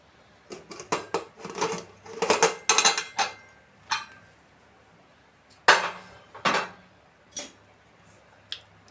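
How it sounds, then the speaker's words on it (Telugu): A metal lid lifted off a pot of cooked curry, a series of close, sharp metallic clinks and knocks in irregular bursts with short pauses between them. "ఇంకా మూత అయితే తీసేసి ఓపెన్ చేసి చూసేద్దాం"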